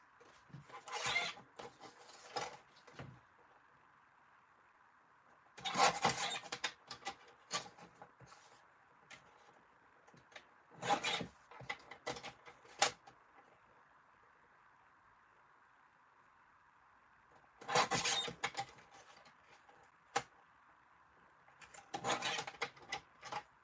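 Craft card being trimmed for a flip flap card, giving quiet rasping cuts in several separate bursts with stretches of near silence between them.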